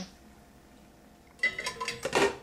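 A spatula scrapes and clatters against a pot while lentils and curry paste are mixed together, a burst of loud metallic stirring sounds following a quiet lull.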